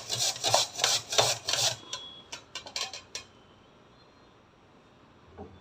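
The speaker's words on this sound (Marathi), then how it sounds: "बटाटा किसून घेणार आहे." A potato is rubbed against a grater in close, rhythmic rasping strokes, a run of six or so even scrapes, then a few quicker short ones before it falls quiet.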